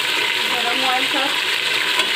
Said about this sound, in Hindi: तो इसके अंदर हम गोश्त को भी फ्राई कर लेते हैं।